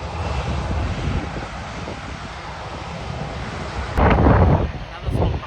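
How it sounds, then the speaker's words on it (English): A small propeller plane passes at Sydney Kingsford Smith airport, a steady broad engine drone mixed with wind noise on the microphone, swelling louder near the end as the aircraft comes closer. "Another small propeller."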